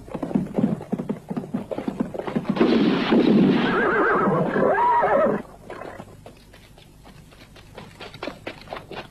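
In a Western film, hooves pound in a fast galloping rhythm, then a loud drawn-out horse whinny rises up close before the hoofbeats carry on more softly.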